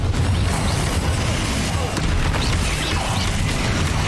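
Confringo spell explosions from Hogwarts Legacy boom through a dense, continuous battle din with crashes and impacts, loud throughout and without clear gaps.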